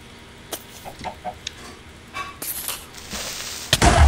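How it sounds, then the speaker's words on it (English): A Minecraft chicken clucking in short, scattered bursts at moderate volume, followed by louder game noises and a sharp hit near the end. "Oh, he killed the chicken."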